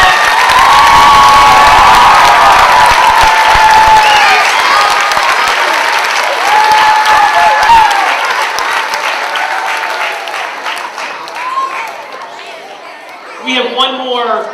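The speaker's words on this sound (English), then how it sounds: "one more round of applause for our first graders" A school assembly crowd claps loudly for first graders, dense close applause with cheers and children's shouts, gradually thinning toward the end as voices and chatter emerge.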